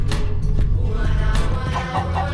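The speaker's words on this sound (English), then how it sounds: "kick some chickens off your set because they're being a little too loud" Chickens cluck and squawk close by in short bursts over a low, rumbling background, with no talking.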